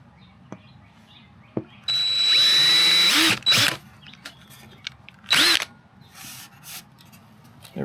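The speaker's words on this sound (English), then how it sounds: "We got one more to drill." Power drill boring holes for a front lip install on an 11th-gen Honda Civic, fitted with a Yofer V1 lip: one sustained burst of about a second and a half followed by two shorter bursts, close and loud, with no talking.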